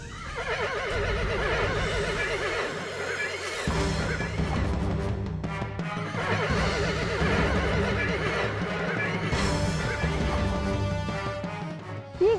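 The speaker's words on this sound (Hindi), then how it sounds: "लग रहा था कोई अश्व दौड़ रहा है" Horse gallops and neighs loudly, repeated whinnies rising over pounding hoofbeats and crashing sound effects, with the cycle of calls repeating several times across the stretch.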